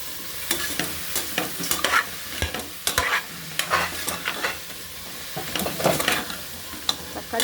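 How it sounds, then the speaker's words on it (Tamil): Tomatoes sautéing in a pan for vegetable biryani, with steady sizzling and a series of sharp spoon-stirring scrapes and clacks at irregular intervals, close and moderately loud, with no voices. "தக்காளி போட்டு நல்லா வதக்கணும்"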